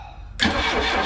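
A Chrysler LeBaron engine with a freshly painted motor and a much bigger battery cranks and catches abruptly, then settles into a loud, steady running roar close by.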